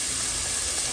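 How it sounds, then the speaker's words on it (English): Chicken wings frying in hot oil while a Sunday family dinner is cooked at home, a steady close hiss and crackle of sizzling that fills the whole second without pause or voices. "Chicken wings frying,"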